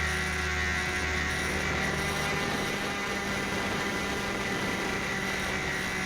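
Steady buzzing whine of a small electric RC airplane motor in flight, an XK A600 or WLToys F959, a continuous close hum with little change in level and no speech.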